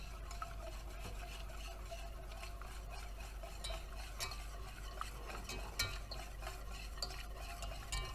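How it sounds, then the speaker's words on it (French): A spoon stirs a mixture in a pan to melt it while making a velouté for stuffed eggs Chimay, giving a faint, steady scraping and swishing with a few light clinks of utensil on pan. "On mélange pour le faire fondre"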